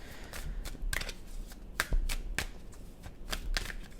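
Tarot cards are shuffled and drawn from a deck in a quiet room, a series of soft, crisp card flicks and slaps repeating roughly every half second, close and fairly faint.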